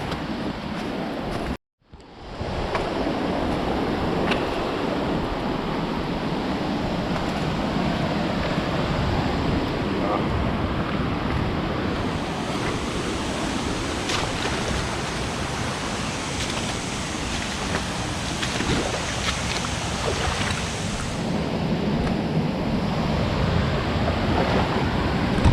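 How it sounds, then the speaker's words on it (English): A waterfall in Bulgaria roars as a steady, dense broadband rush, loud and continuous after a brief dropout near the start, with no talk over it. "We're on the waterfall."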